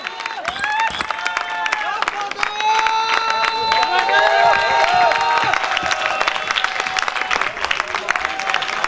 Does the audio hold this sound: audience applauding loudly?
yes